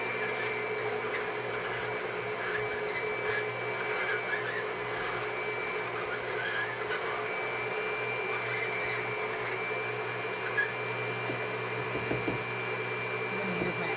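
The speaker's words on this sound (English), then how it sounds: "so you don't have to listen to the blender the whole time" A steady, loud motorized whir runs without a break, like a kitchen blender churning batter, with no talking over it.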